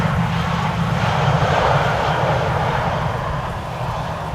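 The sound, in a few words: airplane arriving at Amsterdam Schiphol Airport in windy weather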